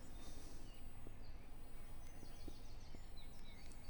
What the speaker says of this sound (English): And you can probably hear all the birdsong, the dawn chorus.